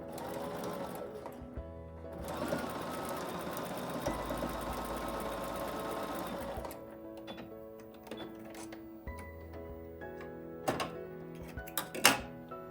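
A sewing machine stitches a seam on a nine-patch quilt square in bursts of rapid mechanical whirring, close and clear, with pauses and a few sharp clicks and thunks between runs.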